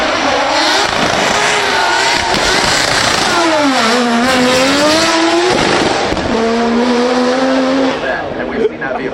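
A Corvette converted to a rotary engine revs hard at the Goodwood Festival of Speed, loud and close, its buzzing tone sweeping up and down through repeated throttle blips with brief tire squeal.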